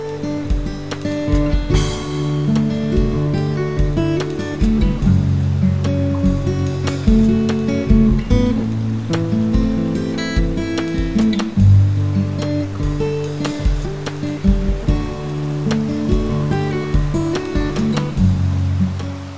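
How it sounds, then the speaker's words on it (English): Moving river water on a Maine morning churns and rushes continuously, loud and near, with steady rumbling flow and scattered splashes. "Nothing like the sound of moving water in the morning."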